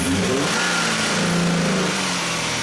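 The engine of a Hyundai Sonata with a crankshaft sensor fault (code P0335) and hesitation has its RPMs raised, a loud, close, steady engine roar with a slight waver in pitch and no voices.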